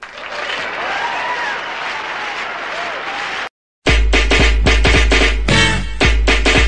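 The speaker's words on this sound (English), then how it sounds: "Now let's hear it for the back of the dress." A crowd at a prom dress showing applauds, cheers and whoops loudly. It starts as a busy, noisy roar, pauses briefly, then returns louder with voices shouting over it.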